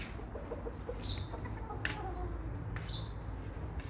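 A flock of chickens clucks nearby, with a few short higher calls rising over a steady murmur of background noise.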